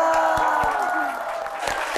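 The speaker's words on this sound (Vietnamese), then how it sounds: "Xin mời tất cả quý vị dành một tràng pháo tay cho em bé" An audience gives a round of applause for a baby at a gathering, a scattered crowd clapping with a few distinct claps and light cheering beneath voices and a sustained tonal sound.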